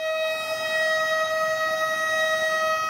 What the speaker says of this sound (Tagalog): matapos tumunog ang sirena ng hudyat ng malakas na lindol